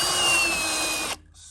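Power drill with a beveled pilot bit boring into a metal rocker panel on a Rialta, a loud, close whine with a steady high tone for about a second before stopping abruptly.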